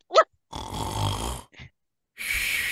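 A voice imitates a snore with a long, rumbling, echoing drawn-out sound, set between short breathy bursts and a second loud rasping snore near the end, heard alone without talk.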